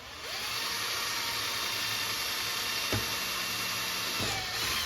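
A power drill bores through an arcade control panel with a steady, close whine and a couple of brief clunks as the bit catches or shifts.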